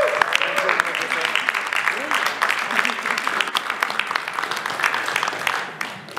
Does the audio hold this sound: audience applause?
yes